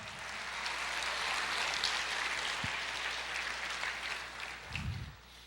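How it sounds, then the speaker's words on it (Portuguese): A church congregation applauds during a sermon, a broad, sustained patter of many hands rising and then tapering off, with a couple of low thumps near the end. "Você pode aplaudir o Senhor, dizer Maranata."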